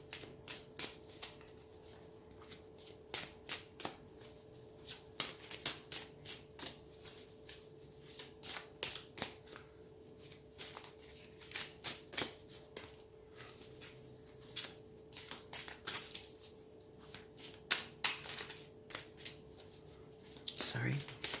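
Quiet, intermittent riffling and soft slaps of an oracle card deck being shuffled repeatedly, close up, with occasional faint background noise.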